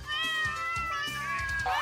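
A cat meows several times in quick succession, loud and close, with a wavering, whiny pitch and slight caterwauling quality.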